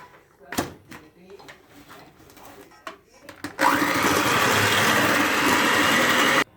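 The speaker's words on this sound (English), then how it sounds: "you're going to cream this for about 1 minute" Electric hand mixer creaming sugar for a gluten-free red velvet cake: a few quiet knocks and bumps, then the mixer starts up and runs as a loud, steady whir for about three seconds before cutting off.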